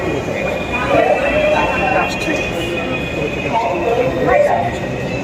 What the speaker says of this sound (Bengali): এই ট্রেনটা আসছে আসছে আমরা এই ট্রেনে যাব